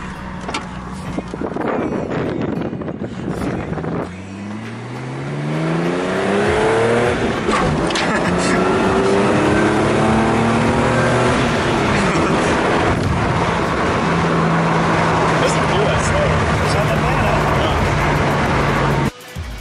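A 1970 Datsun 240 engine revs loud and close from inside the car, its pitch climbing through gear changes as it accelerates along the road, with steady road noise underneath.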